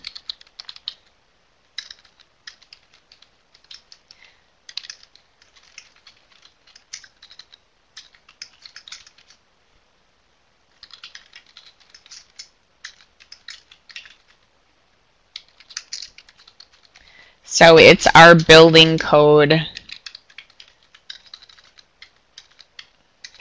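Sparse, quiet typing on a computer keyboard with irregular bursts of clicks and pauses, interrupted near the end by a brief spoken phrase.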